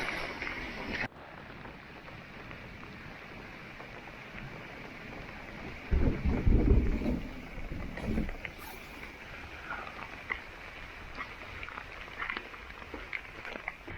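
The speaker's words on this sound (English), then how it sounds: "unfortunately the storm rages on" Rain falls steadily on a lake in Algonquin Park during a thunderstorm, with a heavy rumble of thunder swelling in the middle before the patter continues alone.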